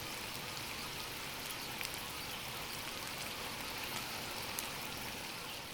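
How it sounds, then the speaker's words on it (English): Stock recording of steady rain falling, a soft continuous hiss with scattered faint drop ticks and no voices. "Let's take a few seconds and listen to some rain."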